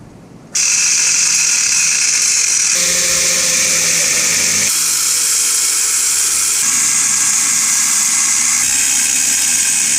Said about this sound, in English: Ear protection, face protection, and a cutting wheel. I'm going to start trimming away slowly.